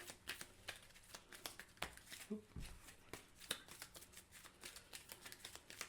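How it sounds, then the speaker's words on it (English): Cards from a Marvel United tabletop game being shuffled, a quiet run of riffling and rapid flicking snaps, close and soft throughout. "So I'm going to shuffle up her stuff."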